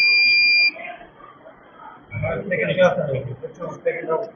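A water tank level alarm model at a school science competition lets out a loud, steady electronic buzz for under a second. Afterwards a person talks nearby.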